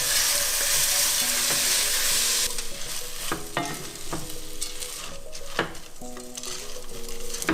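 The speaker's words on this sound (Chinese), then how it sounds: "现在可以把米放下去炒了。" Soaked glutinous rice being stir-fried in a pan for traditional oil rice, a loud steady sizzle with repeated scraping and clinking of a spatula against the pan, no voices.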